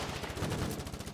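Rapid automatic gunfire from a weapon in the war video game Foxhole, a dense continuous burst of shots loud and close throughout.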